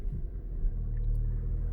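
A 2020 Toyota RAV4 Limited Hybrid rolls forward, giving a low, steady, close rumble for a brief moment with no voices.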